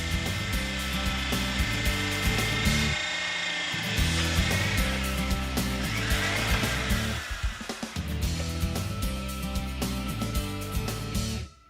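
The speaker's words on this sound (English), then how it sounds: "Drilling with the Trix 160 rig" A Ramset diamond core drill mounted on a Trix 160 rig bores steadily with a loud, high whining motor and grinding. The sound dips briefly a couple of times, then runs again and stops near the end.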